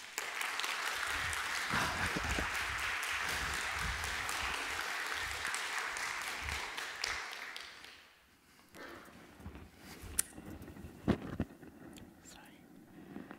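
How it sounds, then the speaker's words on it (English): Audience applause welcoming a lecturer to the Studium Gent stage, a dense sustained clapping for about eight seconds that then fades into a quieter room with scattered taps and murmurs. "Please welcome Esther Stanford-Xosei with a warm Studium Gent applause"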